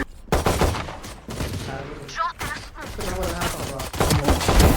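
Rapid gunfire in Valorant, a tactical shooter, cracks in quick bursts mixed with game effects, while people talk over the shots.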